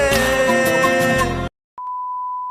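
Music plays briefly, cuts to a moment of silence, then a steady, unbroken electronic telephone busy tone hums on alone.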